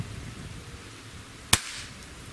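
A single sharp airgun shot fired through a Cattleman Guns Covert moderator, one crisp crack with a brief tail, loud and close against quiet background hiss.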